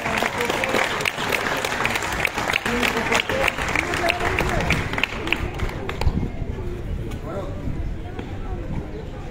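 Crowd applause for a special forces guest from Bacău at a Călărași town hall ceremony honouring war veterans, dense steady clapping mixed with voices, fading toward the end.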